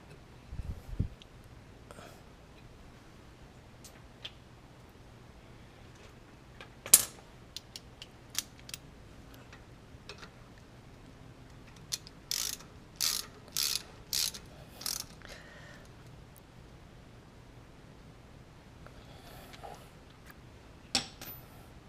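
Ratcheting clicks in short bursts come from a triple square bit snugging up rotor bolts on the rear brakes of a Porsche Cayenne Turbo, alone and close, with quiet gaps between bursts.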